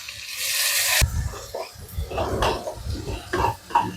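Chopped tomato tipped into a pan of frying onion and garlic for a fish curry, a clatter of utensils on the pan followed by a hissing sizzle with scraping and stirring, a voice talking over it.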